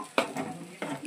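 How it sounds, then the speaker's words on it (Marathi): Puran poli filling of cooked lentils and jaggery being stirred in a pot with a spoon: two distinct scraping strokes against the vessel over a soft background, close and moderately quiet, with no speech. "जोपर्यंत आपलं उत्तरण असं बसत नाही चमचा तोपर्यंत हे मी चांगलं असं एकजीव करणार आहे"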